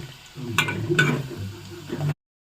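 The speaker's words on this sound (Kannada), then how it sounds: "ಇದೊಂದು ಸ್ವಲ್ಪ ಫ್ರೈ ಆಗಲಿ." Home-grown chana dal fries in a pan for puliogare, a soft crackle and sizzle with a few light stirring ticks before it cuts off abruptly.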